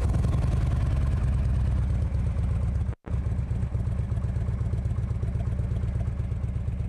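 Harley-Davidson Road Glide engine running loud and close in a motorcycle garage, a steady low pulsing rumble with a brief cut near the middle before it picks up again.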